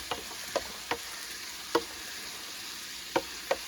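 A spoon stirs meat spaghetti sauce in a pot, making a few soft scattered clinks and scrapes over a faint simmering background, with no talking.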